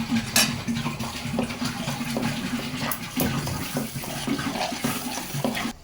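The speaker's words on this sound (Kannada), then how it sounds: "ಮಿಕ್ಸಿ ಜಾರ್ಗೆ ಸ್ವಲ್ಪ ನೀರು ಹಾಕ್ಕೊಂಡು" Water pours steadily into a mixer grinder jar while masala is prepared for pepper rasam, a continuous close splashing with small clinks and no talking.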